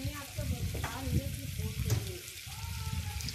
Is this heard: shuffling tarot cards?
no